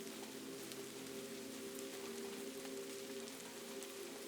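Rain drums softly on a roof overhead on a rainy Kyoto night, a dense, continuous patter blending into one quiet, even hiss over a faint low hum, with no voices.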